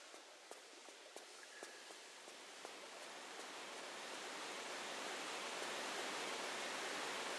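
Rushing waterfall in the Nevada Desert level of Tomb Raider 3, a steady broadband roar that swells louder over several seconds, with a few faint footstep-like taps early on.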